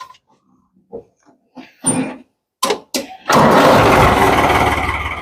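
A few short knocks and clunks, then a tractor engine catches and roars loudly, settling into a steady, heavy rumble.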